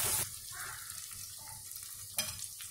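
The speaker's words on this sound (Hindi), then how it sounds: "अदरक लहसुन का पेस्ट डाल चुके हैं। अब इसको अच्छे से फ्राई करना है।" Ginger garlic paste frying in oil for a mutton curry, a steady close sizzle with stirring scrapes and a brief louder burst near the end.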